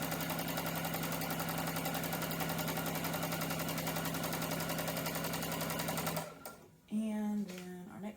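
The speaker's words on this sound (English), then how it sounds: "you keep adding pieces as you go, and then you flip the threads and sew those pieces to each other." Steady, fast mechanical whir and rhythmic needle clatter of a sewing machine chain piecing jelly roll quilt strips, running loud and continuous for about six seconds before stopping abruptly, followed by someone speaking.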